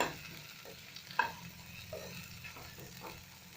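Taro pieces with turmeric and salt being stirred in a pan for an Assamese village recipe, giving a faint, soft scraping and light sizzle with a few small utensil knocks, close by and with no talk.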